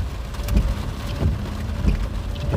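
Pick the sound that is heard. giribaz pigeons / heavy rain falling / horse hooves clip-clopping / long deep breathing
heavy rain falling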